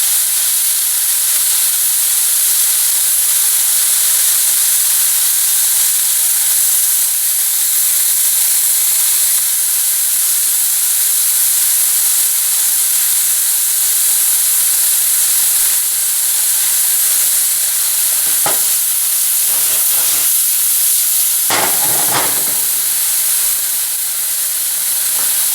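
Wild mushrooms cook in oil in a pan, giving a loud, continuous hiss that stays level throughout. A few quick clatters come near the end.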